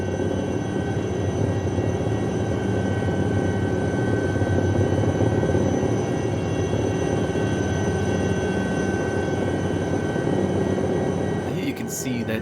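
An SA 315B Lama helicopter flies in X-Plane 12, producing a steady, unbroken engine and rotor drone that holds at even loudness throughout, with a brief rustling disturbance near the end.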